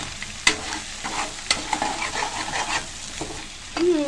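Okra egg fry being stirred in a pan with salt and garam masala, a spatula scraping and clacking against the metal in sharp knocks over a steady low sizzle, with no talking.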